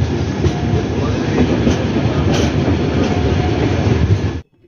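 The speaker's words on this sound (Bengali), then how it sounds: "আমাদের ট্রেন এখন অন্ধ্রপ্রদেশের রেনিগুন্টা স্টেশন ছাড়ছে।" A passenger train pulls out of Renigunta station in Andhra Pradesh, a loud, continuous rumble and clatter of wheels on rails heard close up from on board, cutting off abruptly near the end.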